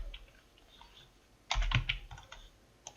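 Keys clatter on a computer keyboard in a quick, dense burst of typing lasting about half a second, with a few scattered soft taps around it and one more near the end, close and fairly quiet.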